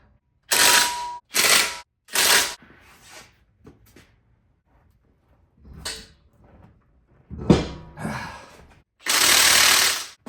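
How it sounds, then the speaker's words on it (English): Wheel nuts are tightened on a Ford Bronco Raptor with bursts of an impact wrench: four or five loud, rattling bursts of about half a second to a second, separated by quieter mechanical clicks and handling noises, close by. "I'm just going to tighten it down until it feels right."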